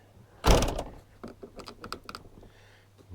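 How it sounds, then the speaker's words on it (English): The rear door of a Citroen Relay van slams shut with one loud, close thunk, followed by a run of small clicks and rattles from the latch and handle mechanism. "So let's close this door."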